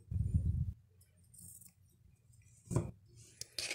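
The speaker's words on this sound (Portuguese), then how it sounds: "agora aqui a gente já pode cortar o fio" Scissors cutting cotton twine for a rag rug craft, giving a couple of short, close snips separated by near silence, with faint handling rustles between them.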